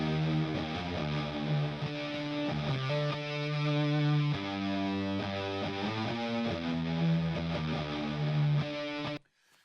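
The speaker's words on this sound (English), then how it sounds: "Let's see what our main chorus guitars are here." Main chorus electric guitars in a rock mix, distorted and layered, playing sustained chords with a full, thick tone that holds steady before cutting off abruptly near the end.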